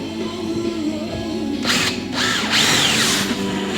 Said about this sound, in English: You get the drill, make a hole in there.